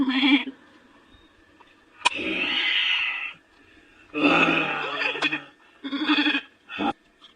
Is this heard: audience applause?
no